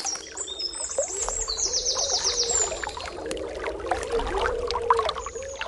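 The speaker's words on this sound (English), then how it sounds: "Use your super hearing to listen to the movement of the water for a moment." Running river water in a forest, a steady near rush and trickle continuing throughout, with bird calls chirping over it, and no voices.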